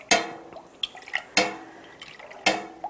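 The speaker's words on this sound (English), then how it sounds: "now I'm going to stir briskly for 15 seconds" Brisk stirring of milk with rennet in a pot for homemade feta, heard as repeated sharp liquid sloshes and splashes about once per second, close and alone.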